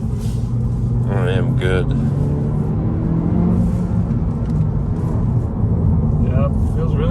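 Honda Civic Si with a six-speed manual gearbox driving, a steady low engine and road rumble running throughout beneath brief talk from people inside the car.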